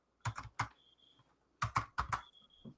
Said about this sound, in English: It sounds like he's trying to push his keyboard through the desk.